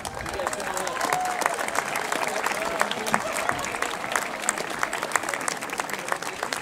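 Sustained applause from a large crowd at a commencement ceremony, a dense, steady clatter of many hands clapping that holds at an even level from start to finish.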